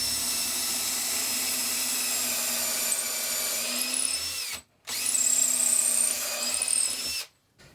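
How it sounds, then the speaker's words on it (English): A power drill bores a clearance hole straight through two stacked pieces of wood, a steady loud whine running for several seconds, cutting out briefly, then resuming before stopping. "now we're going to drill a clearance hole all the way through both pieces of wood"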